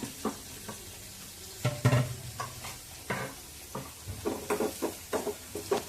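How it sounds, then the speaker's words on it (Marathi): Curry leaves, coriander and onion roasting in a pan for sambar, heard as irregular stirring scrapes and clinks over a faint sizzle, close and fairly quiet, with no speech. "कढीपत्ता आणि कोथिंबीर आता ही मस्त भाजून घ्यायचं"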